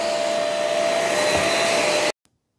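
A Shark vacuum cleaner, either the Navigator upright or the Rocket stick, runs on carpet with a loud, steady motor whine and rushing airflow for about two seconds, then cuts off abruptly into silence.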